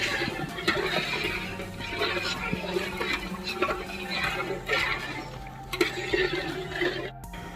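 Soaked rice is stirred into boiling water in a pot for prawn biryani, producing a steady bubbling, watery churn with irregular sloshing bursts close by.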